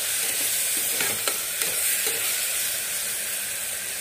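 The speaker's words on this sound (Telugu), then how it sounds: "అంటే ఇలా మిక్స్ చేసుకుంటూ బాగా కుక్ అవనివ్వాలండి" Ginger garlic paste and tomato stirred in a hot frying pan for goat head soup, giving a steady close sizzle and frying hiss with a few soft scraping strokes of the spoon.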